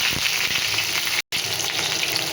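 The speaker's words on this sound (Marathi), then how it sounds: "मिरची छान फ्राय झाली" Green chillies and cumin seeds fry in hot oil in a kadai, a steady close sizzle and crackle running throughout with a brief dropout midway.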